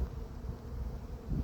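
A low, steady hum of many honeybees buzzing close by inside a hive, continuous and fairly soft.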